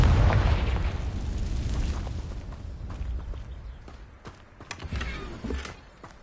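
A Confringo blasting spell explodes in the Hogwarts Legacy video game, a deep booming blast that rumbles and fades over several seconds, followed by scattered crackling debris and small pops.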